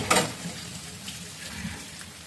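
Tap water runs in a kitchen while hands are washed during cooking: a faint, steady splashing stream with a brief louder gush at the start.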